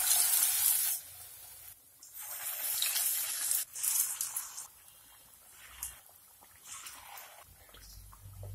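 Wheat batter for a fried snack drops into hot oil and sizzles in loud hissing bursts, then settles to a softer, intermittent crackle close by.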